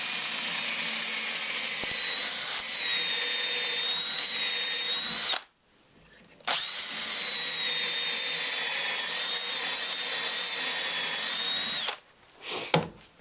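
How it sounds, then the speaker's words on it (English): A power drill bores through a gun's trigger mechanism, a steady high whine running for about five seconds, a brief pause, then another long stretch of drilling before stopping, with a short final burst. "as I insert the drill bit, it'll pick up the hole on the trigger mechanism"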